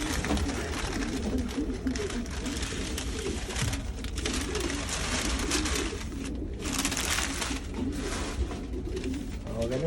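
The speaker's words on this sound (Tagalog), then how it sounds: "Mabait yung mga kalapati niya rito." Pigeons coo steadily and densely in a breeding loft, many birds overlapping at close range, with some shuffling and a brief soft voice underneath.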